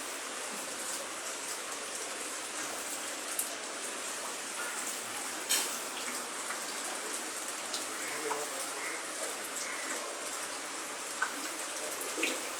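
Steady rain falls around a house and garden in Kollam as a constant soft hiss with scattered faint drips throughout, and no clear talking.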